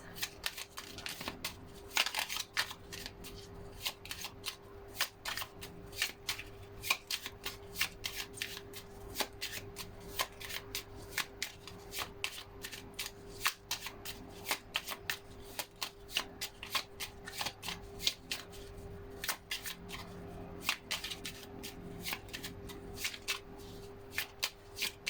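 Chinese Fortune Cookies cards shuffled by hand during a tarot-style sentimental reading, a long steady run of rapid, crisp card flicks and riffles heard close up with no talking.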